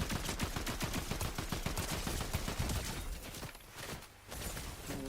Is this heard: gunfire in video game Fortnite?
yes